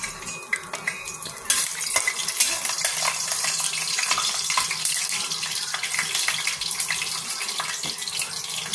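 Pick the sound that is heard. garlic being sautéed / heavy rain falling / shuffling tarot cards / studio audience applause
garlic being sautéed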